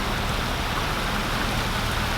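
Steady heavy rain pours on a sailboat during a thunderstorm, a dense, even hiss close around with no voices.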